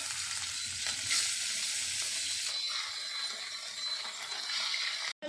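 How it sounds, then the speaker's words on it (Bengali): Fish pieces frying in hot oil for a spicy fish curry, a steady broadband sizzle that grows brighter and denser partway through as more frying sets in, close and continuous with no talking. "তেল গরম গরম হয়ে গেছে তেলটা দেখো এবার আমরা মাছগুলো দিয়ে দেবো"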